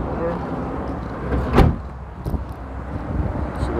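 Door of a Nissan NV350 van being pushed closed, one sharp thud against outdoor background noise, with someone speaking around it.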